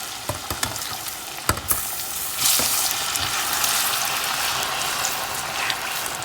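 Sliced bananas fry in hot oil over medium heat, giving a steady, close sizzle with a few sharp clicks and scrapes as the pieces are turned, and no talking.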